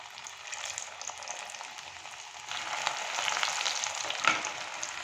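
Methi nimki, fenugreek-leaf flour snacks, fry in hot oil with a continuous soft crackling sizzle that swells louder partway through, with faint bubbling and no voices.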